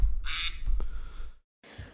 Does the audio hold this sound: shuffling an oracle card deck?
no